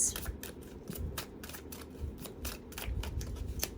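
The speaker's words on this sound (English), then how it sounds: "I'm gonna shuffle all 3 decks" Cards riffle and snap in quick repeated bursts, a crisp rhythmic shuffling close by, with soft handling noises between the riffles.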